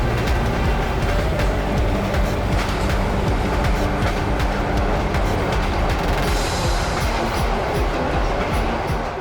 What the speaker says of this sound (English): This is a proper train ride right here.